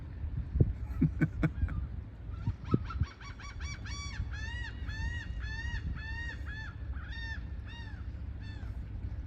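A gull calls repeatedly in a rhythmic series of loud, nasal squawks, close by over a steady outdoor background along a channel at Rockport, Texas, at sunrise, after some handling knocks.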